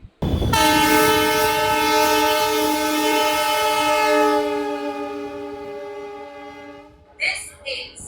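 A train horn blares loudly and holds for several seconds, fading gradually as the train pulls away from Padmapukur station, followed by brief rumbling.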